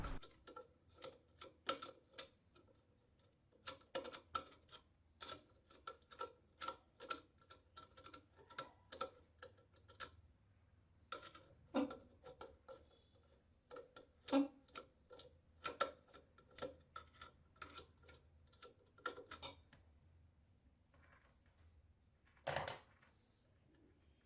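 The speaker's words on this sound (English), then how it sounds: "First just loosen up these screws." Screws on a 1000-watt nichrome heater coil terminal are loosened, giving a string of small, close metallic clicks and ticks at an irregular pace with short quiet gaps.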